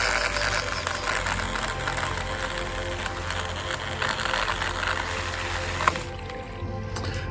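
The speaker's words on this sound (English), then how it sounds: "The last job is always to water the tree to help it settle into the pot." Water is poured over a newly potted Japanese maple bonsai clump, giving a steady close wash of splashing and trickling that runs continuously and then stops abruptly near the end.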